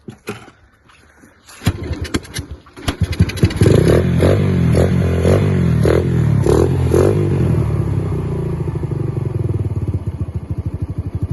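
A motorcycle engine coughs to life after a few scrapes and clatters, then runs loud and close with uneven throttle pulses before settling into a steady rough idle.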